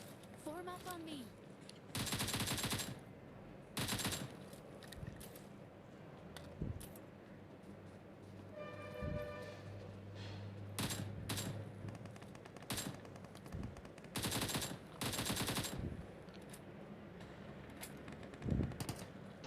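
Gunfire in a squad-based battle video game: loud bursts of rapid automatic shots come in clusters over a steady background of game noise, with brief tonal effects and some speech in the mix.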